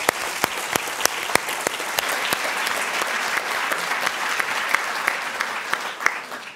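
An audience at a panel discussion on shrinking civil society space claps loudly and steadily, sharp individual claps standing out from the dense applause throughout.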